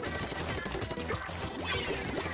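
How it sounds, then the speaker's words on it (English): Ultra Stamp smash landing on a player in a Splatoon 2 Splatfest battle, a dense, loud burst of crashing impact within a busy wash of game noise that never lets up. "I was just splashed by an Ultra Stamp"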